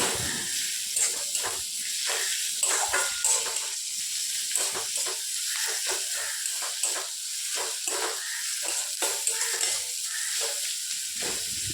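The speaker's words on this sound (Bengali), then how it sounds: "রসুনটা একটু ভেজে নেব।" Garlic fries in a pan with a steady hissing sizzle. Repeated stirring scrapes and taps punctuate it at a close, even level.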